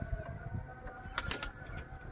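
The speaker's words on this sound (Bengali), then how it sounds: "এটা একটা পুরোনো ঘাড় বেঁকা পায়রা।" An old wry-necked pet pigeon coos softly amid brief wing flutters, faint and close against a low background hum, with no talking.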